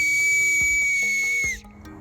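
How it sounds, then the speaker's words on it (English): A single sustained, piercing whistle blown through cupped knuckles holds one high pitch for about a second and a half, then cuts off abruptly, leaving quiet background. "blow on your knuckles right at that opening to make a whistling sound"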